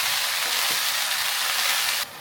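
Chili frying in a pan gives off a loud, dense, steady sizzling hiss after water is poured in, close by, and then it cuts off abruptly near the end.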